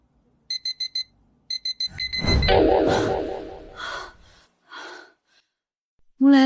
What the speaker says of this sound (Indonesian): Alarm ini cuma efektif 3 hari.